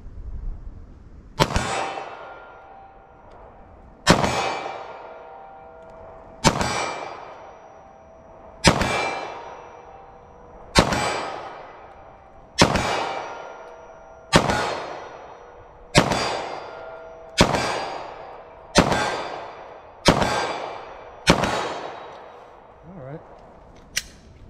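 Eleven sharp 9mm handgun shots fired at a target 25 yards away, spaced roughly two seconds apart, each a loud crack with a ringing tail, at an outdoor range.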